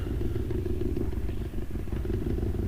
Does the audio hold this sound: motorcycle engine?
yes